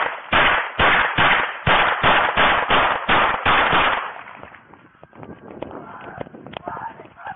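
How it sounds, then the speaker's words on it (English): Rapid burst of about a dozen loud gunshots fired during a police encounter in Denver, close and sharply spaced over four seconds, followed by quieter shuffling, clatter and movement. "They're southbound, shots fired!"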